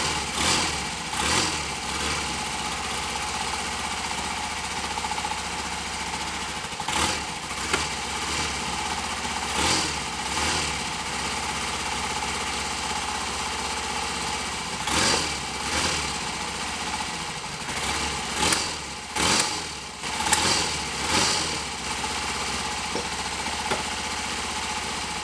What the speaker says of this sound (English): We're spitting back a little bit, although the engine is cold.